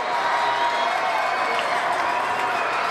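Crowd at a high school football game between the Massillon Tigers and Football North building into a loud, sustained roar that holds steady and dense throughout, with no clear breaks.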